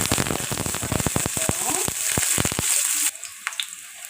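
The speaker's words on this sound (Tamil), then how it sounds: "இப்போ கடாய் அடுப்பில் போட்டு எண்ணெய் ஊற்றியாச்சு எண்ணெய் ஊற்றி நல்லா சூடாயிடுச்சு" Onions hit hot oil in a kadai and sizzle loudly with crackling pops, then the frying drops to a quieter, softer hiss.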